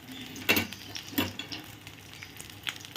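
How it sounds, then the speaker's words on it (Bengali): Boiled mung dal goes into hot oil with fried ginger, giving a quiet sizzling hiss with a couple of louder clatters from a utensil against the pan. "এবারে দিয়ে দেবো এর মধ্যে সেদ্ধ করে রাখা ডাল।"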